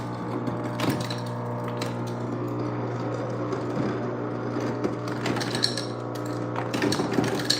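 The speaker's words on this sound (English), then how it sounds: "the ice machine is so fucking loud" A loud ice machine runs with a steady mechanical hum and a layered whirring drone, with rattling, clicking bursts over it.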